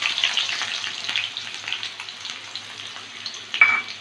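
Chopped onion with garlic, dried red chilli and kalonji frying in mustard oil: a steady, fairly quiet sizzle with light stirring, close by, with one brief louder spit near the end and no voices.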